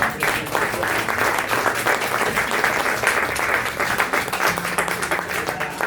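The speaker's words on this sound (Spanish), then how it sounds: "Podemos empezar con un aplauso para..." Steady, full audience applause fills the room at a gathering of former coal workers at La Carbonera de San Telmo, with even, continuous clapping throughout and no break.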